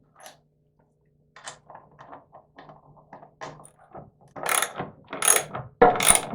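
Wooden corner braces being screwed into the skirt boards of a Mission-style coffee table, with a series of short ratcheting clicks building to three loud bursts of driver whirring near the end.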